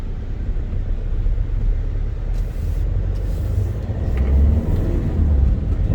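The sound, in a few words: 2011 Hyundai Verna 1.6 CRDI diesel car driving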